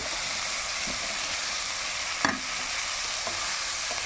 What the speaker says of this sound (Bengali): পুরোটাই মাছের তেলে ভাজছি।